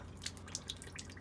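Water spurts and drips from the drain of a caravan water system, an Elddis Compass, being emptied for winter; a continuous close trickle with irregular splashy drips, no talking.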